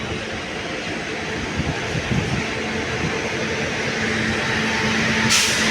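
A train rumbles steadily nearby at the large Hubli railway junction, with a continuous mechanical drone and faint rail noise, no talking.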